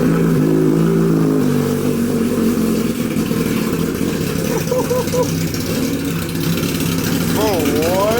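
A Brutale 1000 motorcycle engine with a newly installed loud exhaust runs loudly and steadily up close, its exhaust rumbling with a few revs, while people talk over it.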